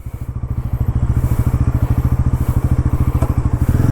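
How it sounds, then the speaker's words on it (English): A Bajaj NS400Z motorcycle with a 350cc engine rides off, its close, loud engine beating in a rapid, even thumping rhythm that builds slightly throughout. "So let's go for a short ride on the latest Bajaj NS400, but with the latest 350cc engine."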